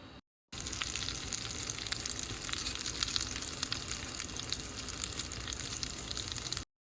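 Mustard and cumin seeds sizzle and crackle steadily in hot oil in a pan, a dense close frying hiss for tempering a temple-style cucumber sambar, continuous and loud with no talking.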